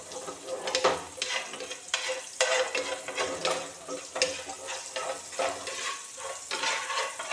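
Chopped small onions frying in oil in a pan for a sardine masala, with a steady sizzle broken by repeated scraping stirs of a spoon, close and fairly loud with no voices.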